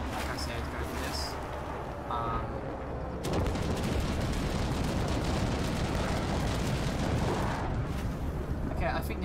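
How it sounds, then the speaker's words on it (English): Bomber air strike in a video game tournament match pounding an enemy position with pillboxes, a dense roar of blasts and rumbling fire that swells after a few seconds and runs steadily to the end, loud and continuous. "they're about to drop a bomber on these mercs once again"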